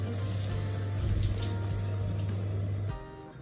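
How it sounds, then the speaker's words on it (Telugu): Water running and splashing as the liquid from washed rice is poured into a pot, a continuous close gush that stops abruptly near the end. "నీళ్ళు వంపుకొని వేసుకోవాలి"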